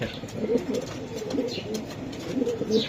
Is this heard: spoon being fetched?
no